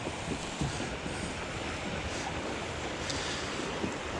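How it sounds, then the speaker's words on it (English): White-water river rapids rush around a kayak during a fishing trip. The water makes a steady, broad roar with wind buffeting the microphone, and there is no talking. "we gotta navigate these rapids, Rich."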